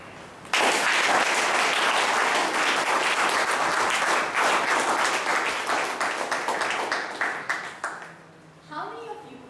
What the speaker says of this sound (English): a huge round of applause for this speaker who's going to present her first project.